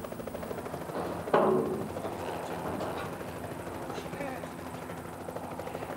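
A helicopter drones steadily in the background under people talking, with one brief thump partway through, flying along a river in South Africa.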